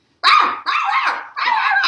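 A dog barks three times in quick succession, close and loud, each bark rough and sustained, with brief silences between.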